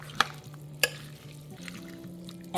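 Shredded steak with peppers and onions being stirred in a slow cooker, quiet with a few sharp clanks of a utensil against the pot over a low steady hum.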